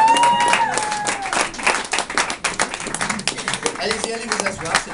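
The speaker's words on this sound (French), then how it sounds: "on peut les applaudir" Applause from a party crowd at a birthday celebration in a club, with lively clapping and cheering over overlapping voices and laughter throughout; some tonal vocal sounds rise and fall near the start.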